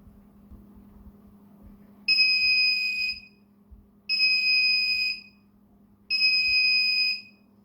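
Visiting-time warning buzzer sounds three times, each steady electronic tone lasting about a second with even gaps between, loud over a faint low hum.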